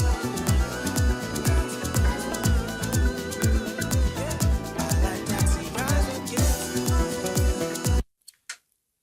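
A full song plays loud and dense without a limiter, with punchy drums and bright instruments, then cuts off abruptly into near silence with a couple of faint clicks.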